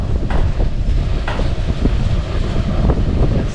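Steady wind blows across the microphone in a low, continuous rumble, with faint scattered knocks in the background.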